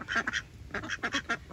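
Cayuga ducks quack in short, nasal bursts, a few quick calls, a pause, then a run of several more, fairly faint and close together in a quiet yard.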